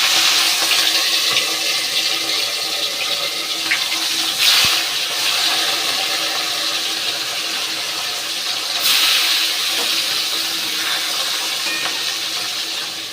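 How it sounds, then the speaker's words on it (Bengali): Fish pieces frying in hot oil for a Bengali fish curry give off a loud, steady hiss that swells briefly twice, with no talking. "তেল গরম হয়ে গেছে, মাছগুলো দিয়ে দিই।"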